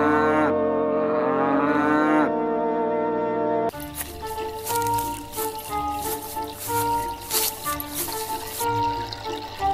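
A cartoon cow lets out a long, loud, wavering moo in the opening seconds, followed by an upbeat musical score.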